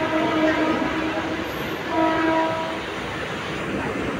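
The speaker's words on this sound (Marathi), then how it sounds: "5:56ची ट्रेन पकडली आणि निघाले" A Mumbai local train runs toward Malad station, a steady close rumble of wheels and carriage noise filling the whole stretch, with faint whistle-like tones over the din.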